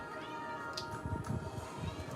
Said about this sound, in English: I think my cat wants out.